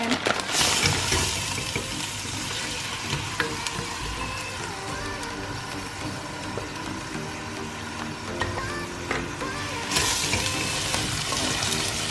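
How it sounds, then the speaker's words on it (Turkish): Pasta and its cooking water are poured from a pot into a strainer in a home kitchen sink while the tap runs, giving a steady, close rush and splash of water that swells again near the end. "O makarnamızı dökelim."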